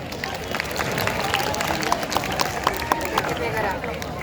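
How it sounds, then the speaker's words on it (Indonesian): A crowd applauds class 9 at a school graduation and arts ceremony at SMPN 213 Jakarta: dense, steady clapping with scattered sharper claps and a murmur of voices, sustained throughout at moderate loudness. "tepuk tangan untuk kelas 9"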